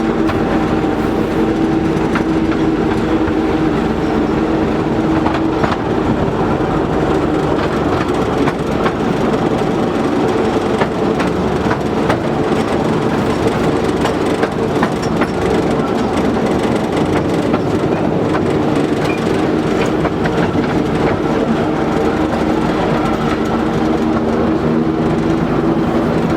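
The Driving Creek Railway train rolls steadily across the lower deck of a viaduct, its loud, continuous rumble and rhythmic wheel clatter holding unbroken throughout.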